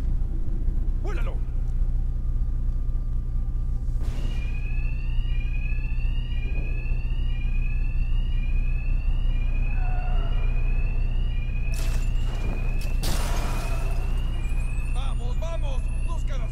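An alarm blares in Batman Arkham Knight, a repeating rising electronic wail that keeps going under a loud, steady background rumble, with a few sharp bangs mixed in.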